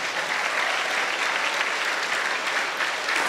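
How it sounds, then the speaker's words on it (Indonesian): A crowd of students and guests applauds steadily at a school's Maulid Nabi commemoration, a dense, even wash of clapping with no voices. "Tepuk tangan dong."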